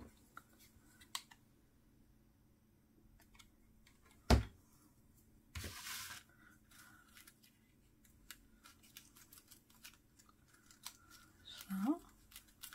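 Scissors snip through paper while a floral card is being made, giving a few sharp isolated cuts spaced apart against a quiet room, with faint handling rustle between them.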